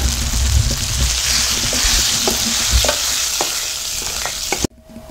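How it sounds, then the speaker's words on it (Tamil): Cooked green gram dal is mashed by hand in a clay pot, making a continuous soft, wet churning and scraping, close and moderately loud, with occasional sharper knocks before it stops abruptly. "இப்போ பருப்பு கூட சேர்த்து நல்லா கடைஞ்சிக்கலாம்."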